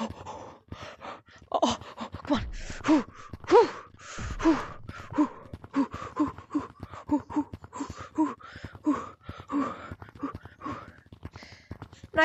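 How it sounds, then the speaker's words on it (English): Heavy, rapid breathing of a person with asthma while playing Gorilla Tag in VR, close to the mic, with repeated gasping breaths and pants throughout, loud and continuous. "if you hear a lot of breathing, that's just me breathing a lot."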